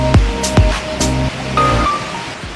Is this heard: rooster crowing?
no